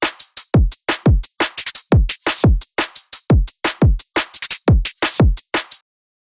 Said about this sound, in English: So this is a break that's been taken from the Patreon